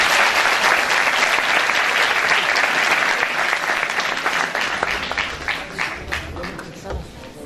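Dense applause from an audience welcoming the competing teams on stage at a high school debate tournament final, steady and loud throughout before easing slightly near the end.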